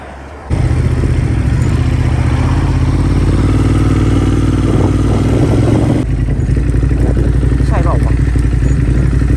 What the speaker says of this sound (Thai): ครั้งแรกในชีวิตกูขับรถบ่มีเกียร์เนี่ย